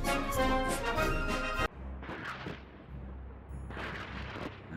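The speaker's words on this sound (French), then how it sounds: "Le fracas des canons de Babur annonce une nouvelle ère dans l'art de la guerre en Inde." Cannon fire from a battle in Mughal-era India, a dense booming roar that cuts off abruptly, followed by rumbling blasts and crackling reports at a distance.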